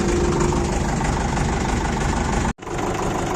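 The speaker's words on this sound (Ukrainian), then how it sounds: "тракторець робить в принципі нормально" A D-65 tractor engine idles steadily with a loud, continuous low rumble and knocking throb, briefly cutting out near the end before resuming.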